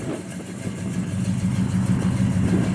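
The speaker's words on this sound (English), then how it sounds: "Sounds real good off the exhaust in the back." A 1969 Chevrolet Chevelle SS 396 V8 idles steadily with a deep, throaty exhaust rumble and a slightly uneven, loping cam pulse, close by from the rear exhaust and constant throughout.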